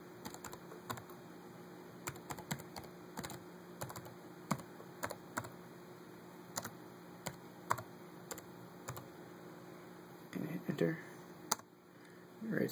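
Keystrokes tap out a password on an Arduino-based keyboard of buttons feeding a Raspberry Pi, a steady run of quiet, evenly spaced clicks near the mic, with a short flurry of louder handling noise near the end.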